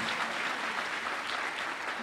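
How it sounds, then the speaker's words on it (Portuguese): A church congregation applauding the men present at a Wednesday evening service, a dense, steady wash of clapping heard at moderate distance for the whole span. "Dá um aplauso a todos os homens que estão aqui essa noite."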